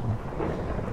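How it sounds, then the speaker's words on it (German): A low, rolling rumble of thunder from a Minecraft thunderstorm, with faint rain hiss behind it, one continuous steady roll that fills the short moment with no voices. "Es hat gerade das Gewitter angefangen"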